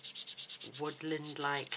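Ink is rubbed onto a nature-themed handmade card in quick, even back-and-forth strokes, a soft rhythmic scratching heard alone at first before a person starts talking over continued rubbing.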